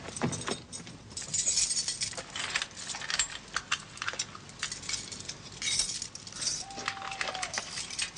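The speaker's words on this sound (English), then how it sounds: "Produce the skeleton keys." Skeleton keys jangle and clink in a lock as it is worked, a steady run of bright metallic rattles and small clicks filling the whole stretch, close and fairly loud.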